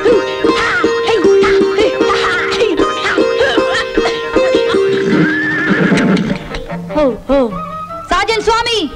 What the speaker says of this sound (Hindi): घोड़े ले आओ।